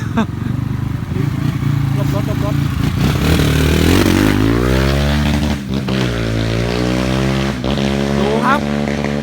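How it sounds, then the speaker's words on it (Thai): An enduro motorcycle rides past, its engine loud and close, the revs climbing and swinging as it goes by, with a steady rumble underneath. "มอเตอร์ไซค์มา"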